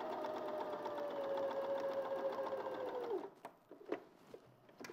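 A sewing machine runs steadily for about three seconds, stitching a seam at a 1.5 setting, its fast whirring hum close and even before it stops, followed by faint handling clicks.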